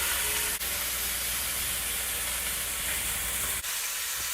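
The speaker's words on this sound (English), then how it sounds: "after about searing for about 4 minutes each side, you'll get a nice dark coloring" Beef short ribs sear in a hot pan, a steady close sizzle with constant crackling hiss and a couple of faint clicks, no voices.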